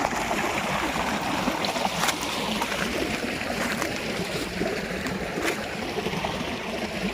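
On a village farm, irrigation water pours steadily into a castor field with a constant close rush and gurgle. Occasional faint clicks and taps sound over the flow.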